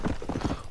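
Horse hooves clip-clop in the video game Red Dead Redemption, a quick steady run of close hoofbeats at an even trotting rhythm, with no talk.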